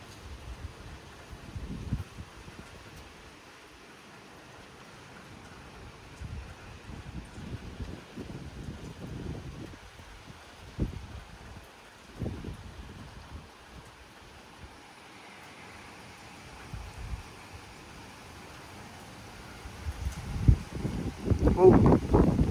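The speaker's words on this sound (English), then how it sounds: "Wind's dying down." Gusty wind at a lakeside during a mild thunderstorm, rumbling and buffeting the microphone in uneven surges that swell louder toward the end, with low rushing noise throughout.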